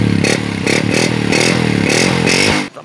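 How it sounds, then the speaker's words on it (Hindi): A 2021 model Honda 70 motorcycle engine runs close up with a steady, loud putter and rhythmic pulsing revs that last for about two and a half seconds. It then cuts off abruptly. "बताना है आपने कमेंट सेक्शन में कैसा लगा आपको इस बाइक का साउंड।"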